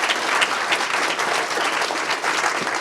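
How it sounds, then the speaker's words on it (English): An audience applauds after a panel discussion on redistricting, a steady, dense wash of clapping that holds at an even level throughout with no voices breaking through. "Round of applause for them for sure"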